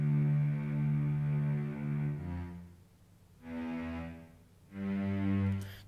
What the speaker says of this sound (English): So these are just playing the low notes.